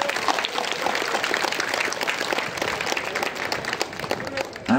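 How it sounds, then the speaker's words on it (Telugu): A seated audience at a talk in Rayadurgam claps together, a thick, lively burst of many hands that carries on steadily, with a voice briefly audible over it. "మీకు మీరే ఒక్కసారి చప్పట్లు కొడతారు"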